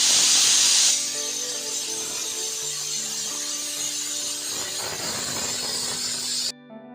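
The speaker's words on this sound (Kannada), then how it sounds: "ಕುಕ್ಕರ್ ವಿಷಲ್ ಬಿಟ್ಟಿದೆ" A kitchen pressure cooker whistle lets out a loud, bright hiss of steam that blasts for about a second, then a softer sustained hiss runs beneath steady tonal hum until it cuts off abruptly near the end.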